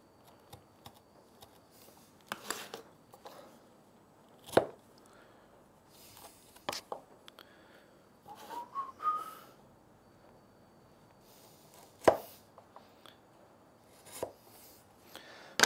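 A chisel chops into a wooden dovetail joint with sharp, isolated knocks spaced irregularly over quiet room tone, a few louder strikes standing out among softer taps.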